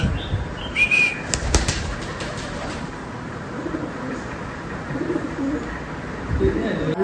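A pet pigeon at home coos softly amid some wing flapping and shuffling, with a few sharp knocks and low background noise throughout.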